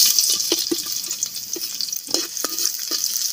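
Garlic sautés in a pan of oil for spicy pork ribs, giving a steady close sizzle with a few sharp scrapes and clacks of a stirring spoon and no talking.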